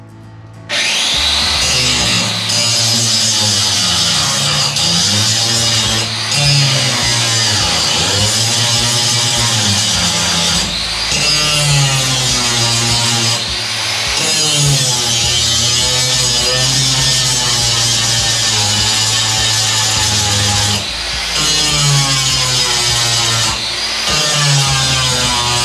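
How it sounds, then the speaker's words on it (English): A power grinder cuts rust out from around holes in the metal body of a bus being rebuilt. It makes a loud, continuous, close-up whine whose pitch rises and falls as pressure on the tool shifts. "Chris is grinding all the rust out from around the holes"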